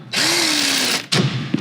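An impact drill buzzes in one sustained burst while unscrewing bolts during a Classic Bronco roll cage install, then stops briefly before a shorter second run with a few rattling knocks, loud and close.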